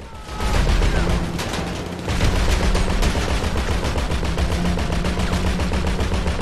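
Gunfire in the video game GTA 5 Online during a heist raid, with dense rapid automatic bursts that continue without pause at close range, loud throughout.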